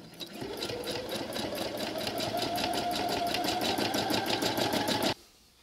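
A sewing machine stitches a fabric quilt sandwich during free motion quilting, a fast steady rhythmic whirring run for about five seconds before it stops abruptly.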